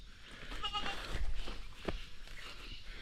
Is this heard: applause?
no